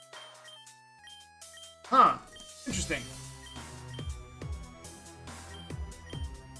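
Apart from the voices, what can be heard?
phone ringtone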